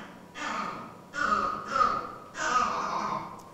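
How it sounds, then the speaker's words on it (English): A male West African green monkey (Chlorocebus sabaeus) gives a leopard alarm call: three or four harsh, noisy barks in a row, each about half a second long, loud and close with no talk over them. "So that's a male leopard alarm in West Africa."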